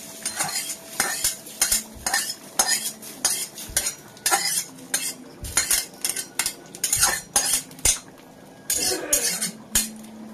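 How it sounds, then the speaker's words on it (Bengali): Spices tempered in hot oil for Bengali chana dal (cholar dal) are stirred in a pan, a steady run of close, repeated metal utensil scrapes and clinks against the pan over a faint sizzle, with no talking. "আমার ফোড়ন দেওয়া হয়ে গেছে"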